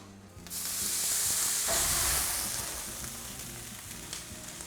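A roasting tray of gravy with browned fond bursts into loud sizzling and steaming on the stove as liquid hits the hot pan, then settles into a steadier, softer hiss.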